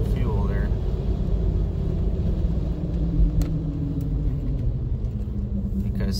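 A car engine hums with a steady low rumble, its pitch rising slightly as the throttle is pressed, while someone talks over it inside the vehicle.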